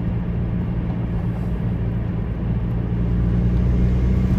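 A BMW 118d E82 with a fault that makes it cut out under load drives along a road, heard from inside as a steady low engine and road rumble that swells slightly toward the end, with no talking.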